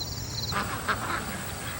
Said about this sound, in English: Ducks quacking called for rain.